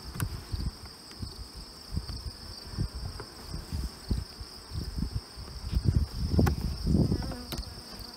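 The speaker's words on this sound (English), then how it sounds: "This one here's got lots of bees in it." Bees buzzing inside bee escape boxes, a low steady drone with scattered louder passes close by, swelling toward the end, with no voices.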